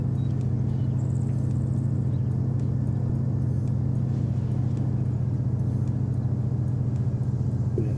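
A military truck engine in the video game Arma 3 drones in a steady, low, close rumble that holds unbroken and fairly loud throughout.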